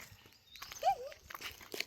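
A dog gives a single short, rising-and-falling whine or yelp at moderate distance outdoors by a gate, with light footsteps and rustling around it.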